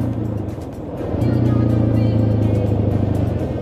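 Suzuki LTZ 400 quad engine with a modified exhaust revs up, its steady loud drone rising after the first second and holding, close and alone.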